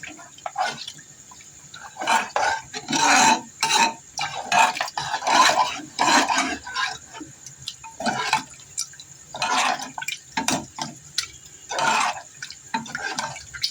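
Water poured into a pan of tomato masala on high heat and stirred, with repeated scraping and splashing of a spoon against the pan in uneven bursts, close and moderately loud, no talk.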